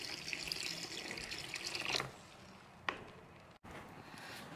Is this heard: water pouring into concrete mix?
yes